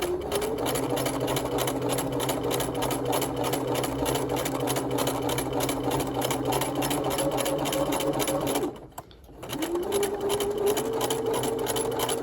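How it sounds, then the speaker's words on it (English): A sewing machine runs a second row of long gathering stitches along fabric in one steady whir lasting about nine seconds, then pauses briefly and starts up again, close and alone with no talking. "So now I'm ready to sew my second row of stitching."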